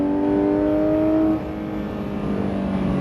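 A Porsche GT3 RS engine revs hard while accelerating on a race track at La Ferté-Gaucher, a sustained high-pitched roar that drops to a lower drone after a gear change, close and loud with no talk.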